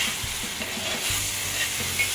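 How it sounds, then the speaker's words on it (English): Vegetables and butter sizzle in a hot pan as they are sautéed, making a steady close hiss with a few soft knocks and stirring bumps throughout. "First we got to saute up our veggies and our butter."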